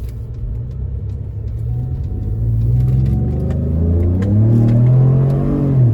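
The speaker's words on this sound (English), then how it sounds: "we on a test drive now, so let's see. So yeah, big difference, big power." A 2015 Ford F150 Platinum's turbocharged V6 EcoBoost engine, freshly fitted with new spark plugs, revs up and pulls hard, its rumbling growl rising steadily in pitch as the truck accelerates, heard from inside the cab.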